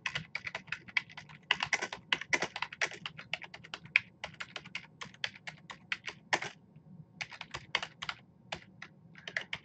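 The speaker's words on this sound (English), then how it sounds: "so I'm going to have to type it out." Fast, close typing on a computer keyboard comes in dense bursts of crisp key clicks with brief pauses between them and no voices.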